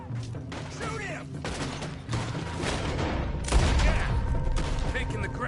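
Dense gunfire in Red Dead Redemption 2, a western video game, with overlapping shots and booms building louder toward the end, and voices shouting amid the firing.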